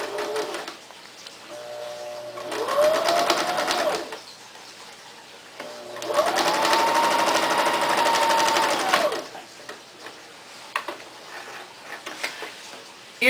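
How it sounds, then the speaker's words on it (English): An electric sewing machine runs in two bursts, stitching a diagonal line across a puppet-style oven mitt, a steady close whirring hum of a few seconds each, separated by quieter pauses with light handling noise. "I'm just going to do one diagonal stitch right across"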